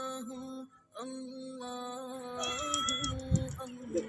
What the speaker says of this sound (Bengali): এখানে কিন্তু বিড়ালের অভাব নাই